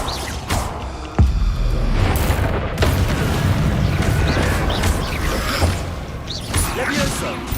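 Confringo fire spell explosions in the video game Hogwarts Legacy land as heavy, repeated booms and crashes amid a loud, busy mix of game effects, with no talk.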